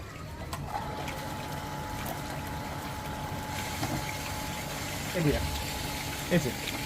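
An iron removal water filter runs its backwash, giving a steady, fairly quiet rush of flowing water with a low pump-like hum underneath and a couple of faint clanks.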